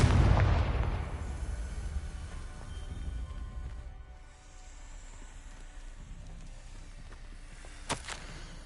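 In a Harry Potter wizarding video game, a Confringo spell goes off as a loud, deep explosive blast at the start, then decays into a long rumbling tail, with a sharp crack near the end.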